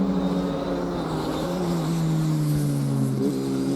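An FR Americas open-wheel race car works through the long right-hand turn 3 at Canadian Tire Motorsport Park, its engine a sustained, buzzing whine that sags and then climbs in pitch as it drops through the gears.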